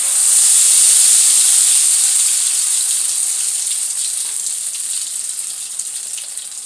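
Egg appam batter frying in hot oil gives a loud, close, steady hissing sizzle that eases off gradually over several seconds, with no talking.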